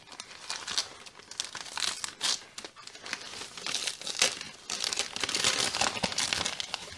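Gift packaging from an Advent calendar being unwrapped up close, with repeated crinkling and crumpling of paper and occasional tearing in irregular bursts, no talking.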